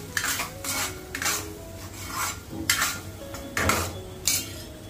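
Three eggs being stirred and turned in a pan for egg bhurji, with rhythmic scraping strokes of a utensil against the metal at close range, each stroke a distinct rasp over a low background hum.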